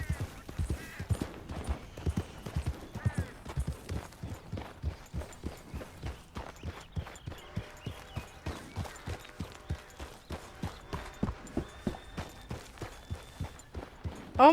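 Horse hooves clip-clop at a steady walking pace in the open world of Red Dead Redemption 2, each footfall a distinct thud, moderately close and continuing alone for the whole stretch.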